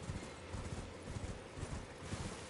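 Torrent the spirit horse from Elden Ring gallops in a fast, steady clip-clop rhythm, close and continuous with no talk.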